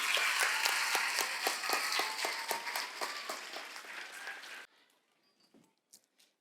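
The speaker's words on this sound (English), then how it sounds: "Let us once again have a huge round of applause for our music team." Audience applause for the music team at a school Teachers' Day celebration, steady rhythmic group clapping that fades out abruptly after about four and a half seconds, leaving near silence with a few faint sounds.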